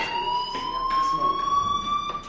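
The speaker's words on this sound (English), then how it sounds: "do you hear that fire alarm? That means you should be outside." A fire alarm rings in the Life is Strange video game, a steady electronic tone with harmonic overtones that holds unbroken throughout at moderate loudness, with faint movement sounds underneath.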